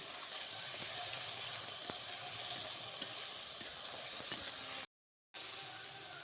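Spice paste sizzling with fried onions in a pan while cooking chilli paneer, a steady close hiss and crackle with occasional stirring taps and a brief gap near the end.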